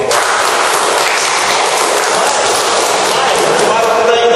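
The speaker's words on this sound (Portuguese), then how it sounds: "Uma salva de palmas bem forte." Loud audience applause fills an auditorium during a church testimony gathering, a dense wash of clapping held steady throughout and heard close, with no clear talk over it.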